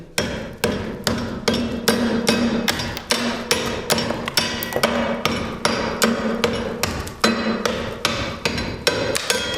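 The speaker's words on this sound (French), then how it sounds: "si on veut tailler une ardoise, par exemple, on veut la tailler, alors on fait un trait, on a tracé l'ardoise, et donc on taille." Hammer dressing a roofing slate on an anvil, a long run of sharp, evenly spaced close taps, roughly two or three per second, with no voices.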